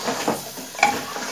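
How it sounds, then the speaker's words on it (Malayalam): Chicken pieces sizzle and are stirred in a pan, with a steady frying hiss and a few soft scrapes and clinks of the utensil, close and brief with no talk. "നന്നായിട്ട് ഇതിലിട്ടൊന്ന് ഇളക്കിയെടുക്കാം"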